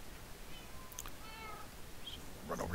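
Cat meows inside a Minecraft-style video game, several short clear calls spread across the moment, fairly close and alone with no talk over them.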